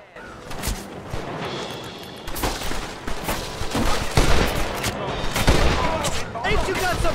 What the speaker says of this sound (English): Oh shit, they're shooting at me.